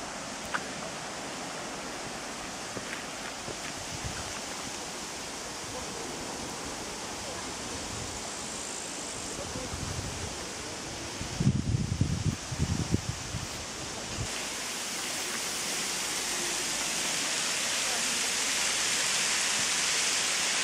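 A coastal waterfall in winter, with icy sea wind, gives a steady broadband rush throughout. A heavier low rumble swells briefly near the middle.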